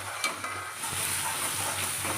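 Vegetable peel paste frying in oil in a pan, giving a continuous bright sizzle with faint hiss, steady and close with no talking.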